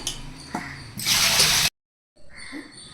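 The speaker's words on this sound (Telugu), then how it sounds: "ఇలా నీట్గా వాష్ చేసుకోవాలి పొట్టెలు కాళ్ళు శుభ్రంగా" Water splashes and runs as goat trotters for mutton paya are washed by hand, with a loud rushing burst, a brief silence, then softer sloshing.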